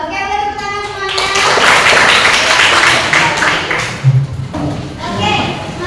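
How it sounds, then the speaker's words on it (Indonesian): Classroom clapping during an Islamic religious education lesson, a burst of children's hands applauding together from about one second to four seconds, moderately loud, with scattered taps and a voice speaking at the start and end. "tepuk tangan semuanya"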